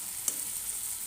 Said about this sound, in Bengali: এবার মাছগুলো ওপর থেকে দিয়ে দিচ্ছি।